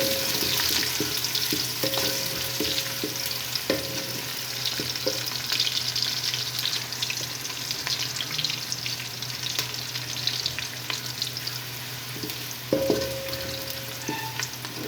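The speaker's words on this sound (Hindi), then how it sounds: "प्याज को अच्छी तरह हल्का फ्राई कर लेते हैं।" Onions fry lightly in hot oil in a pan, giving a continuous close sizzle with periodic stirring scrapes and clatters, steady and loud for the whole stretch, with no voices.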